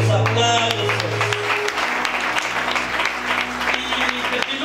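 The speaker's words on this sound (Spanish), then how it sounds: "Fuerte los aplausos." Loud, dense applause breaks out at a church gathering in Chuikankab, Aguacatan, just as a sustained musical tone cuts off, then continues as steady clapping from a crowd with some voices mixed in.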